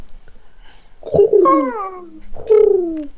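A pigeon cooing sound effect, two loud close coos with a wavering, gliding tone, the second after a short pause.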